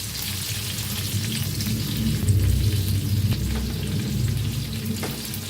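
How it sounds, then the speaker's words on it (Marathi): Stuffed capsicums fry in a pan, producing a dense, continuous crackling sizzle at close range with a faint stir or two. "याला हलवून घेऊया आता सगळ्या मिरच्या भरून घेतलेल्या सोडून घेऊया याच्यात"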